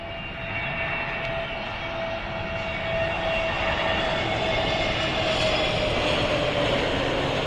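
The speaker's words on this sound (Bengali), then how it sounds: "ভারতের মুম্বাই থেকে 2 ঘন্টা 28 মিনিট পথ উড়ে ঢাকায় অবতরণের জন্য এগিয়ে আসছে ইন্ডিগো এয়ারলাইন্সের" An IndiGo Airlines airplane from Mumbai approaches to land in Dhaka, a steady broad jet roar with a faint whine that swells slightly and holds throughout, heard from the ground at a distance.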